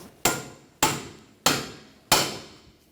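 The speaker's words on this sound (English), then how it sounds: "Just using a pickle fork. Separate the ball joint from the knuckle." A hammer strikes a pickle fork four times at an even pace to separate a ball joint from the steering knuckle on an Audi A4 Quattro front suspension, each blow a sharp metallic bang that rings out close by with nothing else heard.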